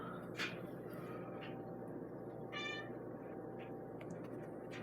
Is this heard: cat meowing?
yes